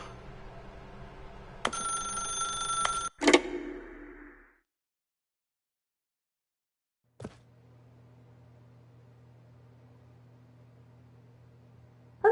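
A telephone rings in the video game The Stanley Parable, a bright electronic ring burst followed by a sharp clunk, then silence and a low steady hum after a click.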